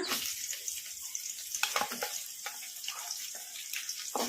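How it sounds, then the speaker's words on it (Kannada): Onions fry with spices in a pan for cashew masala rice, a faint steady sizzle with soft crackles and light stirring scrapes throughout. "ಉಳ್ಳಾಗಡ್ಡಿ ಲೈಟ್ ಗೋಲ್ಡನ್ ಬ್ರೌನ್ ಕಲರ್ ಬರೋವರೆಗೂ ಫ್ರೈ ಮಾಡ್ಕೊಂಡ್ಬಿಡೋಣ"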